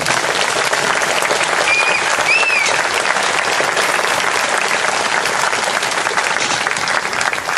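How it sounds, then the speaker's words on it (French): A theatre audience applauds a troupe, a dense, continuous wash of clapping heard up close, with a couple of brief whistles cutting through near the start. "on les applaudit."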